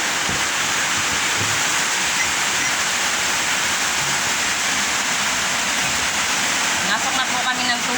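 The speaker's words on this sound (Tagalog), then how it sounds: "Bahay namin pinasok na. Yan po yung water, oh. Sa loob ng bahay." Floodwater pouring into a house, a loud continuous rushing roar like a waterfall that stays steady throughout.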